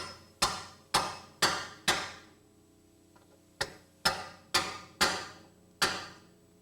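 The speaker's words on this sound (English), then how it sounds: "Now we can reseat them into their mount with a drift and a hammer." Sharp metallic hammer strikes on a drift seating studs, nine in all, in two uneven bursts with a short pause between, each ringing briefly before the next; close and fairly loud.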